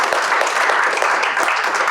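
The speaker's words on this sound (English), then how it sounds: "if we can get a quick round of applause for Charlie" An audience at a live fitness coaching business event breaks into dense, loud applause for Charlie, a continuous wash of clapping hands.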